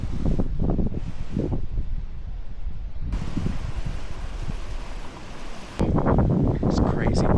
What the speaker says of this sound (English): It's crazy windy out here.